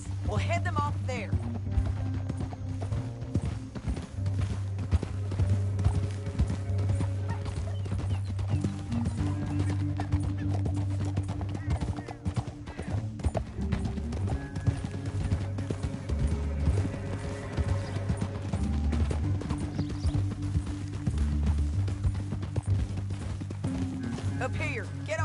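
Horses gallop in the video game Red Dead Redemption 2, with rapid continuous hoofbeats and a neigh or whinny, under game music and spoken dialogue throughout.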